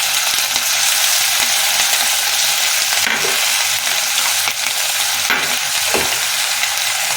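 Tofu frying in a pan with red chili sauce and soy sauce, a loud continuous sizzle close by with scraping stirring strokes cutting through at intervals.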